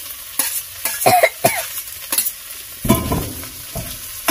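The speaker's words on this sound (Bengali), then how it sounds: "ভেজে রাখা বেগুনটা দিয়ে একটু নাড়াচাড়া করে জল ঢেলে দেবো" Fried brinjal is stirred into a hot, sizzling spice masala, each spatula stroke a sharp scrape or clack over a soft background fizz, with irregular pauses between strokes.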